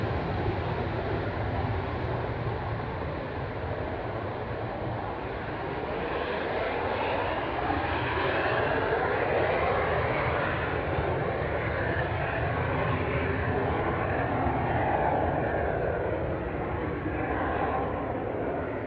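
A fixed-wing airplane approaches to land, its engine drone loud and steady throughout, a broad continuous roar with no pauses and no voices.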